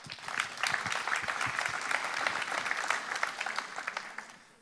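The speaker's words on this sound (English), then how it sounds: "If we could have a round of applause." A conference audience at a talk on Agile breaks into a round of applause, dense and lively clapping that holds steady and then fades out toward the end.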